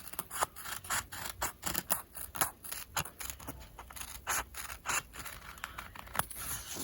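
Scissors snip through a paper face mask template in a steady series of crisp, close cuts, one after another with no talking.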